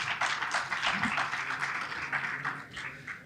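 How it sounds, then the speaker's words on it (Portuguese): A seated conference audience at the SBHidro 2024 hydrography event claps to welcome a panel guest, a dense, steady patter of many hands that holds evenly throughout and fades slightly at the end. "Uma salva de palmas, por favor."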